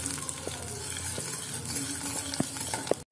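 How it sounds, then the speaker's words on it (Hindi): A spoon stirs spicy momo chutney paste through hot oil in a pan, giving a steady close sizzle with periodic scraping clicks against the metal, alone and without voices. "इसको चम्मच से अच्छी तरह पकने तक चलाते रहेंगे।"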